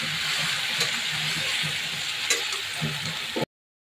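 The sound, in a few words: stirring food in a frying pan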